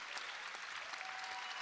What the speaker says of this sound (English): she's going to get a standing ovation from this crowd